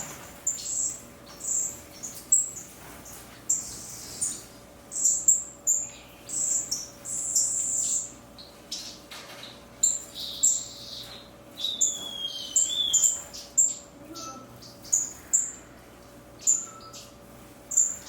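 Many small aviary birds chirp and tweet in quick, overlapping bursts, close by and fairly busy throughout, with no one speaking.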